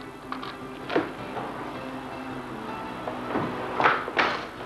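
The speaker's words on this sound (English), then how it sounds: "Key operation, turn the key." A key turns in a door lock, making a couple of faint metallic clicks and taps near the start, then a few louder clunks of the lock mechanism toward the end, in a quiet room.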